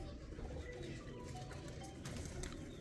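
Faint, low cooing from a group of hobbyist-kept pigeons continues throughout under a steady rumbling background, with occasional brief chirps and no speech.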